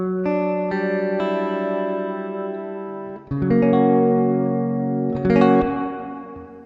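An electric guitar runs through a Source Audio Collider delay and reverb pedal, sustained chords ringing with long echoing tails, then two harder strummed chords that swell and decay, with no voice over them.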